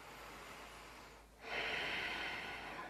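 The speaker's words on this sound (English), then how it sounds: "That exhale, which has the sound of the ocean" A slow, throat-narrowed ocean breath during yoga practice, heard close and quiet: a soft airy breath eases, briefly falls silent, then a stronger, hissing exhale rushes out and holds.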